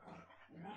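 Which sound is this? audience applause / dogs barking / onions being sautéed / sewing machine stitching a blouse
dogs barking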